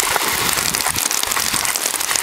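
Heavy tropical depression rain pours down steadily, a dense hiss of drops striking surfaces all around, loud and unbroken.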